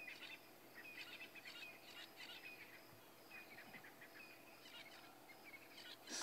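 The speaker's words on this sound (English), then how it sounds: "Starlings." Starlings calling at sunrise on safari in the Sabi Sand reserve, repeated bright chirps and whistles in quick bursts, fairly faint and distant over a quiet bush background with insect hum.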